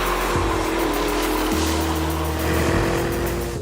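A Porsche Cayenne Turbo GT sports SUV with a titanium exhaust lacking a middle silencer, driving on the Hockenheim Formula One circuit, gives a loud, steady engine drone whose pitch shifts as it changes gear, with no voices.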